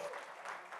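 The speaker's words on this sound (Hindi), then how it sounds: "जोरदार तालियां प्लीज" A brief burst of dense crowd applause at an Indian event with Olympic athletes, holding at an even level throughout the short moment.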